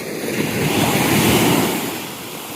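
Ocean waves wash onto the shore in a broad, steady roar that swells and recedes, with some wind noise and no voices.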